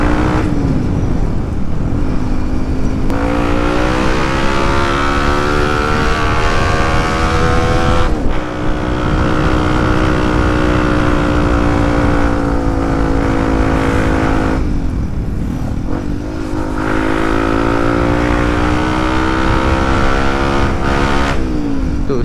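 A Yamaha WR155R motorcycle with a loud Proliner XR-1 aftermarket exhaust revs repeatedly, rising and falling in long throaty pulls with short drops between them.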